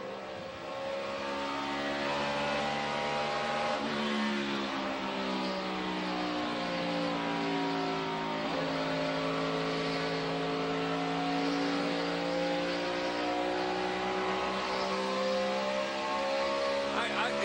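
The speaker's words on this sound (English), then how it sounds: "it's internal, and it sounds like it's mixing cylinders" NASCAR race car engine misfiring and mixing cylinders from an internal fault, running at sustained revs with a rough, uneven drone that shifts pitch; a voice talks over the engine throughout.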